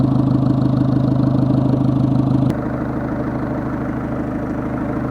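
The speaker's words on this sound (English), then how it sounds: "this engine's now been running for a good few minutes" Turbocharged engine idling close by with a failed turbo under inspection. A loud, steady hum carries a rhythmic pulse and drops slightly in level partway through. No one speaks.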